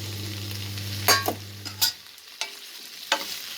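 Okra goes into a pan of softened onions for okra kuzhambu and is stirred, giving a few scattered scraping clatters after a low hum fades out.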